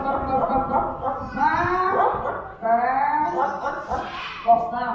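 A person imitates a big dog barking at a zoo park, several gruff voiced woofs in a rough rhythm, mixed with talk and a voice.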